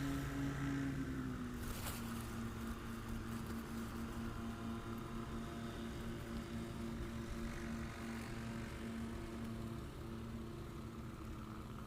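A STOL airplane on short final drones steadily with its propeller engine, the tone dipping slightly early on and then holding even and fairly faint at a distance.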